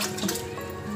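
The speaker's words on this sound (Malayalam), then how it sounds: "അപ്പോൾ ഇതിന് നമുക്കൊരു 8 കപ്പ് വെള്ളം ഇതുകൊണ്ട്" Water pours steadily from a tap or vessel while eight cups are measured out for an Ayurvedic tonic, a continuous close splashing stream lasting the whole second with no talk over it.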